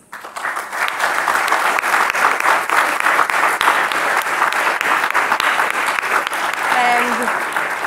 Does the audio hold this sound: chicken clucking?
no